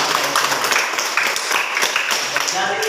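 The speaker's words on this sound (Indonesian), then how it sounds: "Mari kita beri tepuk tangan." Classroom students give a round of applause, a short burst of clapping that blends with voices talking over it at close range.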